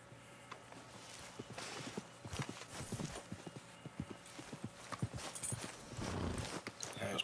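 Horse hooves clip-clopping at a steady walking pace in Red Dead Redemption 2, a dense run of close, sharp knocks over a low ambient background, with no talk.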